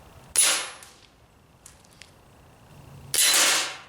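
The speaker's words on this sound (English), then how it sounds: "is shooting these 1/8 thick silhouette targets" A Barra Schofield No.3 CO2 BB revolver fired at eighth-inch-thick metal silhouette targets, two sharp close pops with a faint ping and light mechanical clicks between them; no talking.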